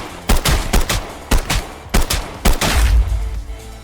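Gunfire from a gun in the shooter game Contractors Showdown: about eight sharp, loud shots in a rhythmic semi-automatic pace, each with a short echoing tail, and no voices.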